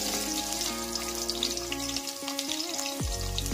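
Sliced onions fry steadily in a pan with cinnamon stick, bay leaves and whole spices for mutton kheema pulao, a close, continuous sizzle and crackle with no voices.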